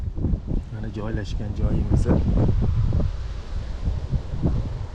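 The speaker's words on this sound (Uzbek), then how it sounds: "Hozir shamol tinim bo'lmayapti" Steady wind buffets the microphone at a fishing spot beside the Sarkisov canal, a continuous low rumble running the whole time beneath a man's close speech.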